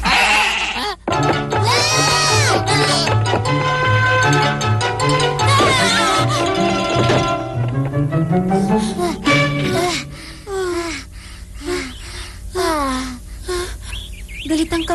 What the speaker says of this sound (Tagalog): nagpupumilit daw ang kambing na umalis sa kwadra